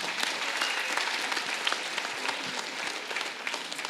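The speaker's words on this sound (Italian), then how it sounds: "Un applauso lattasi!" Sustained applause from a conference audience at an emergency-themed convention, steady dense clapping throughout with no voices over it, moderately loud and filling the room.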